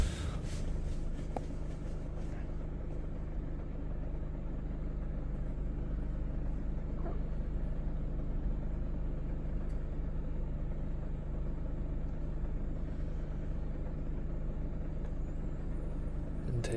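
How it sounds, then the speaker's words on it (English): Diesel engine of a Mercedes Sprinter van with air flow and DPF faults starts up and settles into a steady, low idle rumble that continues evenly, recorded up close with no talk. "let's start the engine back up."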